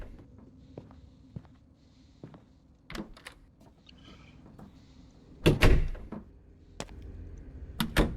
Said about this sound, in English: Lock door.